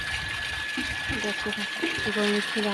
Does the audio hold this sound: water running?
yes